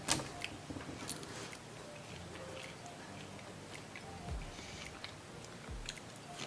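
Soft crunching of crispy french fries made in a Cookeo Extra-Crisp being chewed, quiet and close, a few irregular bites in a still room.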